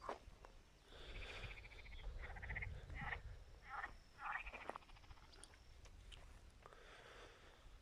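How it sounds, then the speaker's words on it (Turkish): Frogs croak repeatedly in a chorus of rough, pulsing calls, moderately close, with quiet rustling in between. "Kurbağa sesleri geliyor."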